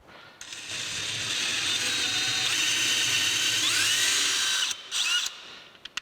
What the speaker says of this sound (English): we're just gonna try power tapping these with the hand drill